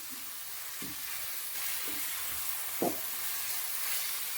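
Chopped onions frying in a pan for a prawn rice dish, a faint steady sizzle with a few soft stirring knocks, no voices over it.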